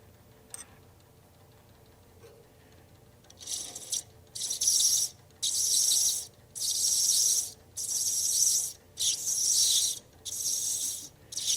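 Lathe cutting threads in an acrylic workpiece, with bursts of close, raspy scraping repeating in a steady rhythm after a quiet start, each pass separated by brief pauses.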